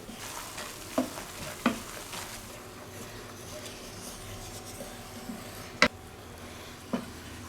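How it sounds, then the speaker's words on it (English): A roux for chicken and sausage gumbo is stirred in a pot, with a soft steady sizzle under scattered spoon scrapes and a few sharp clinks against the pot's side. "Just keep agitating it like this and stirring it around until we get the color that we're looking for"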